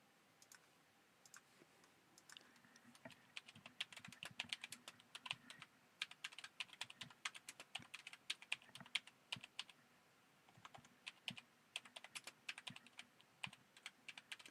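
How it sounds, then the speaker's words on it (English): Continuous typing on a computer keyboard, a close, steady patter of irregular clicks and taps with brief pauses, carrying on alone without any talk. "it's hard for me to talk while I'm typing"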